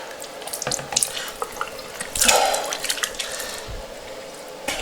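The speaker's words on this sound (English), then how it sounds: "okay, so that's rinsing my nose." Water being rinsed through the nose during wudhu ablution, using only a small amount of water: soft close-up splashes and drips with a brief louder gush near the middle, no talking.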